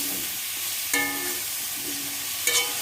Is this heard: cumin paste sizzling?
yes